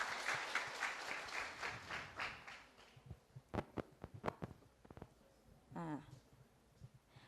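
Applause from a small audience at a Thai citizen media event, a brief burst of clapping that thins out into a few scattered, separate claps, fairly faint, followed by a short voice.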